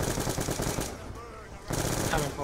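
Rapid automatic gunfire in Black Ops 2 Zombies on the Origins map, loud sustained bursts of rattling shots that pause briefly near the middle and then resume.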